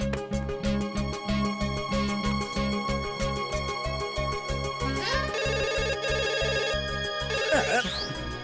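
Telephone ringing close by in a steady repeating pattern of short bursts that continues throughout, with brief sliding electronic tones in the later part.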